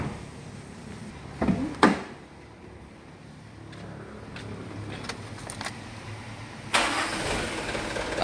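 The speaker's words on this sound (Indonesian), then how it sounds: "Mesin kita hidupin ya." A car engine is started during a vehicle inspection: two short, loud cranking bursts, then quiet, then another sharp crank as the engine catches, followed by a low, steady idle.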